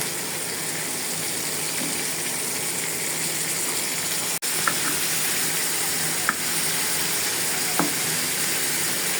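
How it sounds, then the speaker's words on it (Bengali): Boal catfish fry in a pan with a continuous dense sizzle and spatter, broken by a sharp click and a few faint clinks of a utensil. "বোয়াল মাছগুলো এখন ভেজে দেব"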